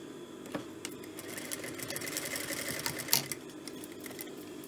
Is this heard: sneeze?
no